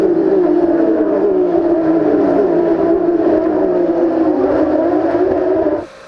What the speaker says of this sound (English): The Porsches were pretty cool and they were hammering along.